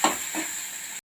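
Onions sautéing with rock salt in a pan on the stove for channa masala: a brief, steady hiss and sizzle, close and even, that cuts off abruptly.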